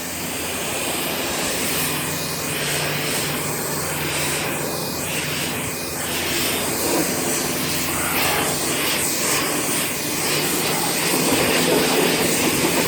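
A SunJoe SPX 4001 electric pressure washer sprays water to rinse salt and mud off a 2018 Ford Mustang GT, a steady loud motor whine mixed with hissing spray that shifts as the stream sweeps across the car.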